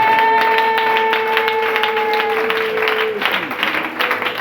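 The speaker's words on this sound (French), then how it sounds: "Est-ce que tu peux véritablement acclamer le Seigneur?" Church congregation applauding to acclaim the Lord during a French-language sermon, steady loud clapping filling the room beneath sustained musical tones, the applause thickening toward the end.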